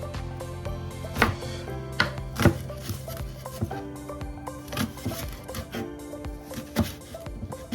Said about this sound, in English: So this is the spring onions. Slice it too.